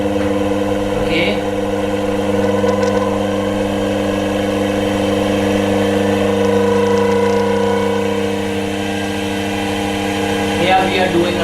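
Small DC motor spinning at higher RPM while generating around 18 volts, a loud, steady whirring whine with a constant tone throughout, and faint clicks near the start and end.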